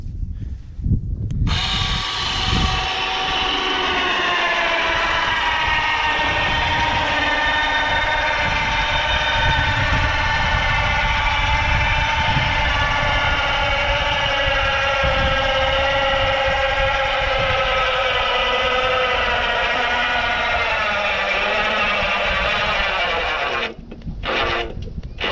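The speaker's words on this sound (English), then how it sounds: "that's how strong that winch is. She can lift the whole freaking four-wheeler." A 3000lb electric winch hoists a Polaris four-wheeler with a loud, continuous motor whine that strains and shifts slightly in pitch, then stops abruptly.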